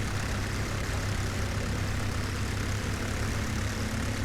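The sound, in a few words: airplane flying overhead in video game Forgotten Honor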